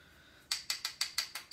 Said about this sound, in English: So now I can pull out my spray box and we'll hit this one with a little bit of green.